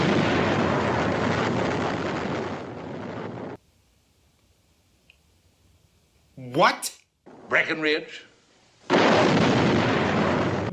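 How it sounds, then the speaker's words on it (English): Explosion sound effects cut into the film Myra Breckinridge: loud roaring blasts fill the start and end, with a quiet gap between where voices speak briefly and a short burst of sound sweeps past. "What is with the random cuts to explosions?"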